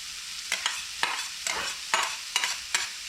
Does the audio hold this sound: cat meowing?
no